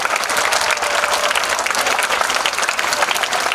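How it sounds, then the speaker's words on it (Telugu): Dense, continuous clapping from children and an audience at a school Children's Day celebration honouring Jawaharlal Nehru, loud and even from start to finish. "we have to clap for Jawaharlal Nehru"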